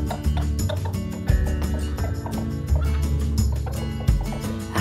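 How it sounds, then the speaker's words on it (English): Cartoon fairytale hen clucking, likely from a cartoon telling of Jack and the Beanstalk, with repeated fowl-like calls set against steady music throughout. "Back in the castle the giant slept, up to the magic hen Jack crept."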